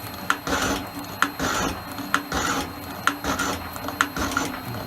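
Elliott 10M metal shaper taking cutting strokes at about a millimetre depth of cut, a rasping scrape recurring roughly once a second over steady machine noise, close and fairly loud, no talking.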